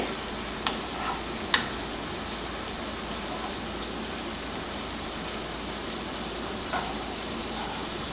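Prawns fry in a pan with a continuous soft sizzle and hiss, broken by a few light clicks as they are turned.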